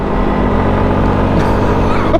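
A SYM 125cc motorbike carrying about 170 kg labours uphill, its small engine droning steadily and loudly under strain with a continuous low rumble and wind noise.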